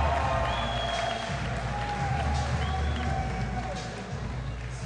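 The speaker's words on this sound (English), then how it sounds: "Let's get a big round of applause for both of these boxers." An audience applauds and cheers at an Olympic-style Armed Forces boxing bout in the 114-pound class, a steady, dense wash of clapping and crowd noise that carries through the whole stretch without pause.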